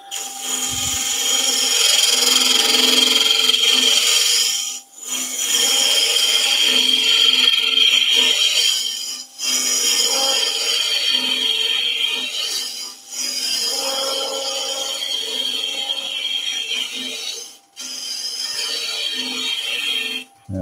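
A wood lathe spins a banksia nut and epoxy resin vase as a tool cuts it, giving a loud, close, steady whirring scrape that breaks off in short gaps between passes.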